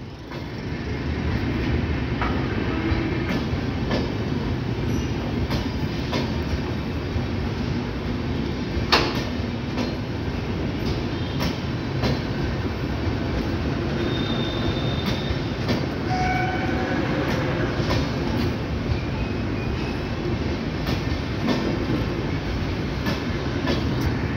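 Passing train at Ghaziabad, the Tanakpur–Delhi Purnagiri Jan Shatabdi 12035, a steady loud rumble of rolling coaches with faint clickety-clack sustained throughout, no talk.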